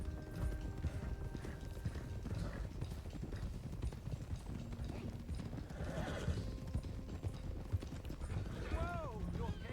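Horse hooves clip-clop steadily on the ground in the game Red Dead Redemption 2 while horses are driven toward Clemens Cove, a quiet rhythmic trot under game music, with a horse's whinny late on and speech nearby.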